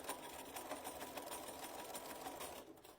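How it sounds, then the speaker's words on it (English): A sewing machine stitches a half apron for gardening, its fast, steady mechanical whir and needle chatter running continuously and close up, fairly quiet overall, with no one speaking. "we're going to want to back stitch, maybe go forward and just back stitch another time"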